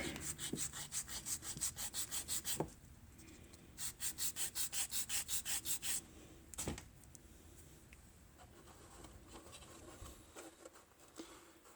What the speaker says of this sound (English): we're going to do some sanding now. Let me find a good sanding block.